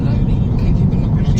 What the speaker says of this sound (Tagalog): Mucho tráfico.